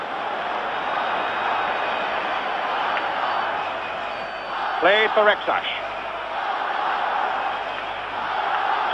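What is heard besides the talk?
Spanish football crowd cheering and chanting in stadium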